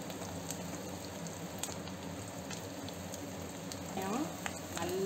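Onions sauté in a pan for a tamarind curry, giving a faint, steady low sizzle with light stirring and occasional pops.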